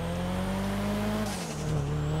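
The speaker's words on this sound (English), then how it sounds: "the turbo whistle from the engine is just so satisfying" A Lamborghini, Ferrari or Audi in GTA 5 revs hard with a steady, rising engine note and a high turbo whistle on top. The sound is loud and continuous, with no talk.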